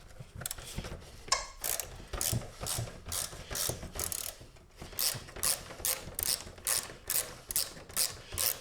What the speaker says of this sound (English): there is an 8mm bolt that you have to loosen